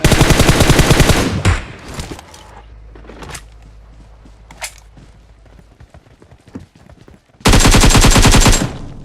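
Automatic gunfire in the PUBG Mobile video game: a dense, loud burst of rapid shots at the start, quieter game noises and a few single shots in between, then another sustained rapid burst near the end.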